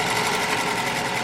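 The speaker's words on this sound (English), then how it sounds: "sewing machine" A sewing machine hums in a steady, fast continuous whir while piecing scrap fabric together, close and even throughout with no talk.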